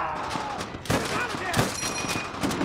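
Machine gun fire in the World War II shooter Call of Duty: World at War rattles in sustained bursts with sharp loud cracks under battle noise and shouted voices.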